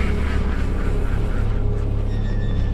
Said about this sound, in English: I seen another duck.